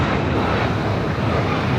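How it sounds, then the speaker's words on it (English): A United Airlines Boeing 737-900ER arriving at LAX roars overhead, a loud, steady, broadband jet rumble that stays close and constant throughout, with no talking. "Our next arrival on 7 right is United Airlines Flight 2861 coming in from Chicago O'Hare. It's the 737-900ER."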